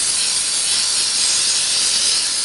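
Cleaner sprays in one continuous, close, even hiss onto the greasy rear axle of a Ford F250 Powerstroke truck during an axle oil change, with no talk over it.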